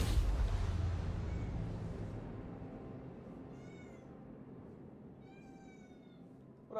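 A cat meows several times during a Starfield livestream, as short high cries midway through and again toward the end, faint over a fading rumble.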